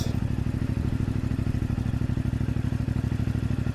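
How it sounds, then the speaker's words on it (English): A CF Moto 450MT (Ibex 450) adventure motorcycle engine idling and chugging steadily close by, a rapid rhythmic thrum with no speech. "Let's turn around and I'll park"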